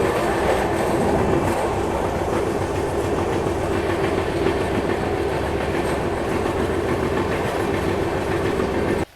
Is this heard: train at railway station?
yes